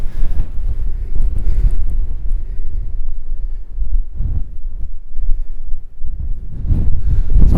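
Freezing winter wind in the mountains buffeting the microphone with loud, gusty low roars that swell and ease, rising again at the end, no voices.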